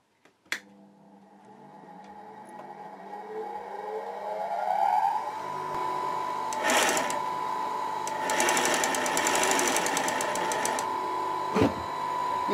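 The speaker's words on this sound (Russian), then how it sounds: "Включаю моталку и начинаю мотать." The bobbin winder on a class 862 sewing machine spins up with a rising whine that settles into a steady hum, with a clack at the start, rattling bursts through the middle and a sharp click near the end.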